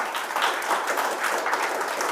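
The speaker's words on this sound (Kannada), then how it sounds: "ಸಂದೀಪ್ ಅವ್ರದ್ದು ಜೋರಾದ ಚಪ್ಪಾಳೆ ಕೊಡೋಣ" An audience bursts into steady, dense applause for Sandeep at a Kannada dream-deal prize draw, a continuous even wash of many hands clapping at moderate distance with no voices over it.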